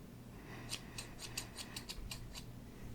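Close, quiet snips of scissors cutting hair in a soft-spoken haircut setting, about a dozen crisp clicks in an uneven rhythm over a low hum, with no talking.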